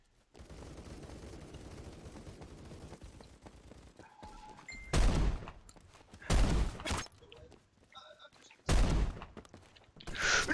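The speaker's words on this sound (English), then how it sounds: "I'm not liking whoever's shooting on my right" Gunfire in the Phantom Forces shooter game: loud, sharp bursts of rapid shots in three or four clusters over a steady background rumble, each burst cutting in abruptly and fading quickly.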